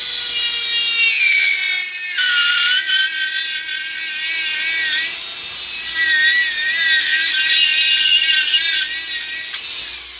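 A Dremel rotary tool carves wet wood with a high, close whine that dips in pitch when pressed into the grain and recovers, running continuously and loud.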